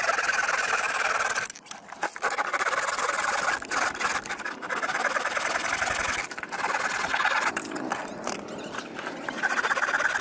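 Repeated rasping strokes of a saw cutting through a bamboo tube, steady back-and-forth rhythm with a brief pause, loud and close.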